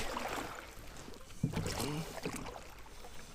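A kayak paddled around on open water during a duck hunt, with soft, steady water swishes and drips from the paddle under light wind noise, close to the microphone.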